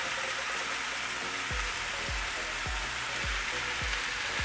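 Jackfruit cooks in a pan with a steady bright sizzle, while low soft thumps repeat about every half second as it is stirred.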